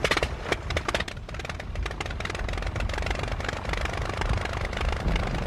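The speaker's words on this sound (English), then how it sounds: "This Blériot, from the old Rhinebeck Museum in New York, has an Anzani engine similar to the one that powered Blériot's historic flight" Anzani engine of a Blériot Model 11 monoplane from the old Rhinebeck Museum runs with a rough, uneven rhythmic chugging, close and loud, with sharp bursts near the start.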